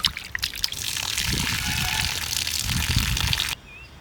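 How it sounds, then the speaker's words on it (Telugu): Running water splashes and trickles while raw chicken is rinsed for biryani in a home kitchen, a continuous close gush with irregular sloshing that cuts off abruptly near the end. "చికెన్ అన్నది మనం శుభ్రంగా కడుక్కోవాలమయ్యా"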